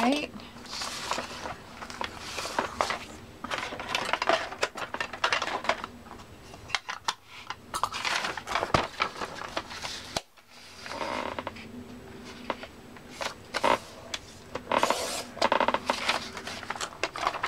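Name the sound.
cutting paper for a junk journal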